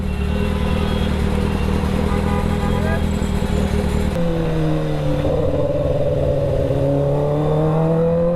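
Road traffic fills a busy Mumbai road with engine drone and the steady hum of passing cars and motorbikes, loud and continuous, while someone talks over it.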